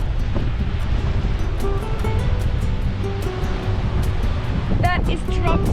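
Surf washing onto a beach on the Limestone Coast, a continuous low rushing roar with wind buffeting the microphone, while people chat over it.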